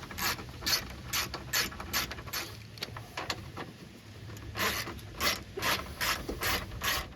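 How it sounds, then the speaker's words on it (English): Short bursts of ratchet clicking loosen the 10 mm nuts holding the headlight on a 1996–2002 third-generation Toyota 4Runner, close and crisp, repeating in quick rhythmic strokes with brief pauses between turns. "we can go ahead and address these two nuts that are holding the headlight in, and these are also 10 millimeter"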